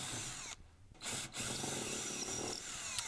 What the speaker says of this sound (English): I'm going to take a drill and I'm going to drill all the way through